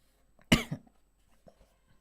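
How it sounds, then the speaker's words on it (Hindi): A single sharp, close cough from a man with a sore throat, followed by a smaller throat sound, in an otherwise quiet room. "भैया जोर में बोली तो गला दुखने लग रहा है, खांसी आ रही है"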